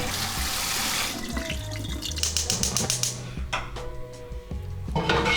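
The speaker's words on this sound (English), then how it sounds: "Give them a quick rinse and then set aside." Tap water running over red lentils being rinsed in a sink, a loud close stream of splashing that fades in and out with clattering and dripping as the lentils are swirled.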